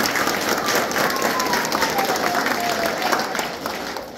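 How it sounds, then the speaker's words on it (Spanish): Dense applause from residents at an organized community assembly in Moca, sustained and fairly loud, mixed with crowd noise and scattered voices. "El aplauso que se siente,"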